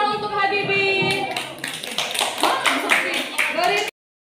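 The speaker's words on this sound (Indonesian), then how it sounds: "Kita beri tepuk tangan untuk Habibie." A classroom of students claps for a classmate named Habibie, a burst of dense hand claps running steadily for about four seconds under loud chatter and children's voices before stopping abruptly.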